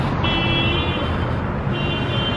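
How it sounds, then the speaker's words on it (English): Odd car alarm on a street, a steady high electronic warbling tone sounding in two bursts over a low traffic hum, moderately distant. "sounds like a really weird car alarm."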